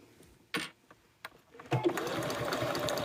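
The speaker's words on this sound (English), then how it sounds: "This is when we pray to the sewing machine gods that I don't break my needle." A sewing machine stitches a beginner boxy bag, with a few short separate bursts early on, then a steady, close, continuous run of fast needle chatter to the end.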